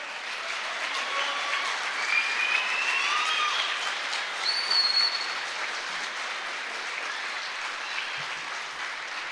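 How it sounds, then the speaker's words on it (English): Applause from the audience at an open house for a Ford technician training program, broad and steady across the whole stretch at moderate level, with a few faint tonal squeaks above it. "can you please give 48 years worth of applause to Daryl?"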